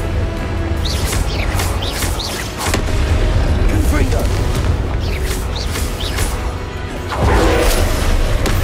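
Confringo blasting spell explosions in the video game Hogwarts Legacy, a dense run of loud booms and crashing impacts over constant battle noise and music, with a heavier blast near the end.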